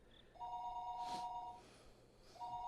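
A telephone rings twice through the receiver during a call to a remote place, each ring a steady electronic burst. The rings sound faint and are separated by a short pause.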